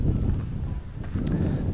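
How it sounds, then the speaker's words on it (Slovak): Strong wind blows outdoors, buffeting the microphone with a steady, loud low rumble that dips briefly midway and then surges again. "Fúka riadne vietor"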